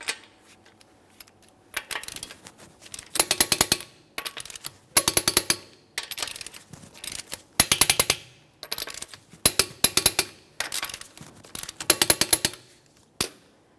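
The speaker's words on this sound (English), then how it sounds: "We're going to be torquing each of our lug nuts in a crisscross manner to that 90 foot-pounds" Torque wrench tightening the lug nuts on a 2015-2019 Subaru Outback front wheel in a crisscross pattern to 90 foot-pounds, bursts of sharp rapid metallic clicks repeating in clusters with short quiet gaps between.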